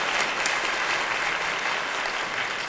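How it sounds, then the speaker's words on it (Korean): A church congregation applauds at an ordination thanksgiving service, a dense, steady clapping that holds evenly the whole time, with no voices over it. "우리 하나님께 영광의 박수 드리겠습니다."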